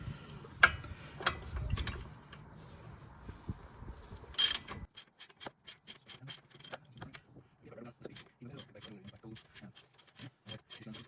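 A ratchet wrench loosens the caliper bracket bolts on a Holden Commodore VT–VZ brake assembly. After some faint scraping and handling noise, it produces a steady run of close, crisp clicks.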